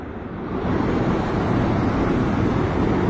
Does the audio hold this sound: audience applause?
no